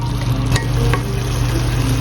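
Carrots are stirred in a hot pan on a home stove in Japan, with a steady loud sizzle and frying hiss running throughout, broken by a couple of brief scraping strokes from the utensil.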